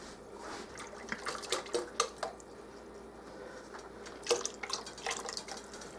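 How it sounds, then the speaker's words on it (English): Milk poured into a pot for macaroni and cheese soup, heard as a run of soft liquid splashes and drips with small clinks of the container against the pot, close by and fairly quiet with no talking. "I'm going to put about 2 cups of milk in here."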